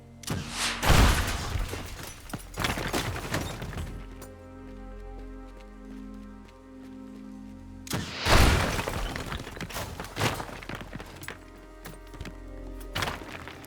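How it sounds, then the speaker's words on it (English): Rubble smashes and breaks in the destructible-voxel video game Teardown, where debris sounds vary with weight and material. Two heavy bursts of crashing and shattering each trail off into scattered falling debris and clatter, with a steady low tonal backdrop between them. "every piece of rubble sounds different based on its weight and material consistency"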